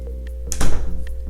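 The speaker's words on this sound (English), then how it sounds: "As soon as I just shut this door." An indoor door is shut with a single solid thunk, heard up close and loud against a quiet steady hum, with no one talking.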